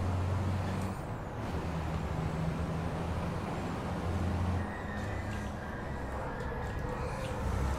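Heavy racing trucks in the FIA European Truck Racing Championship video game roar past in a dense, continuous engine drone with deep rumbling tones and a faint rising whine, loud and steady throughout.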